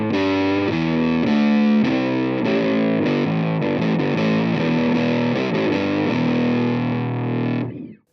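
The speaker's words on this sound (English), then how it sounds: "It's an all-around great monophonic octave pedal, but it comes with a distortion." A Boss OC-3 octave pedal set with distortion shapes a loud, fuzzy, gritty monophonic line of sustained notes with a thick lower octave beneath, cutting off abruptly at the end.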